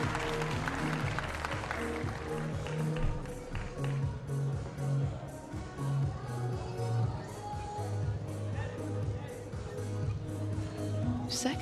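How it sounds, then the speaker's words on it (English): Arena crowd at a gymnastics world challenge cup final in Varna cheering and clapping a male gymnast back onto the apparatus after a fall, a steady rhythmic clapping that carries on throughout at moderate distance. "Crowd cheering him back on."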